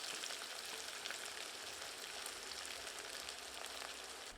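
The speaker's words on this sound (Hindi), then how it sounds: "आंच को मध्यम करके प्याज को सुनहरा होने देते हैं।" Onions fry in hot oil with cumin and cardamom, a soft, steady sizzle that crackles evenly throughout, faint and continuous with no talking.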